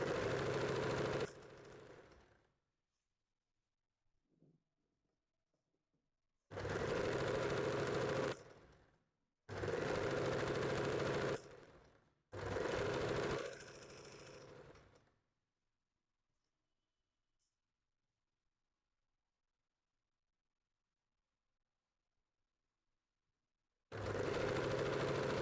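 A sewing machine stitching a nighty runs in four short loud bursts, stopping and starting with brief pauses between, then a long quiet gap before one more burst near the end; no one speaks.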